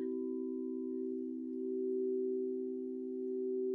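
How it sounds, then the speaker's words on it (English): A crystal singing bowl in a sound healing session rings one pure, sustained tone that swells and fades slightly, clear and steady, with no voices. "do a simple crystal bowl sound healing session with you"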